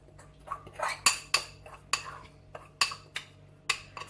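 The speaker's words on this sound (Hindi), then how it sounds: "अब मैं इसके अंदर ऐड करूंगी प्लेन फ्लावर," Plain flour being mixed into fish tempura batter: a steady series of light, bright clinks of a utensil against a bowl, roughly twice a second, with a faint voice in the background.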